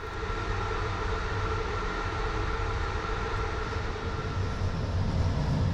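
Steady low rumble inside a Romanian train stopping at Lugoj station, a constant mechanical drone with no voices, holding level throughout.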